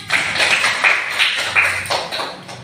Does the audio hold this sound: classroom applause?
yes